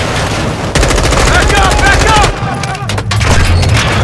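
Sustained automatic gunfire in the Call of Duty: Modern Warfare II mission at Al-Mazrah, with rapid bursts, heavy booms and a shout layered over the firefight.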